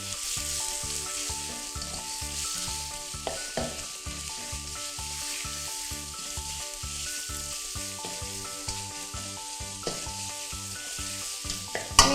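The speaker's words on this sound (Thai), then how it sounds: "ใส่หมูลงไปค่ะ ยีให้หมูแตกตัวนะคะ" Minced pork stir-fries in a pan for Thai basil stir-fry with crispy century egg, a loud, continuous sizzle broken by regular scraping strokes of a spatula as the meat is broken apart.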